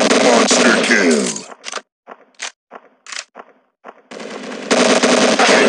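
Rapid automatic gunfire from a special ops shooter video game, loud sustained bursts broken by a few short separate shots in the middle, then heavy continuous firing again.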